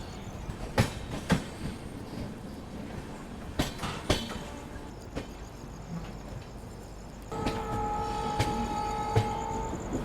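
Udhna Banaras Express passenger train running on rails near Gwalior, with rhythmic clickety-clack wheel beats, sharp rail joint clanks and a steady rumble, plus a faint tonal squeal or horn toward the end.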